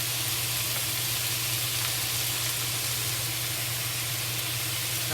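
Thinly sliced pork with green pepper frying in a pan, a loud, steady, close sizzle and hiss that holds unbroken throughout, with no talking.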